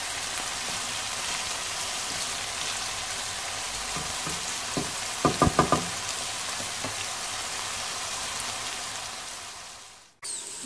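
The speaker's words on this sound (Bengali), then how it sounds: "ভালো করে মশলাটারে বাজরাম যত সময় না পেঁয়াজ, রসুন, আদা মশলাগুলো আর কি লাল না" Onion, garlic, ginger and spices frying in a pan for a Bangladeshi Sylheti vegetable dish, a steady close sizzle with a few sharper crackles and stirring clinks partway through, no voices.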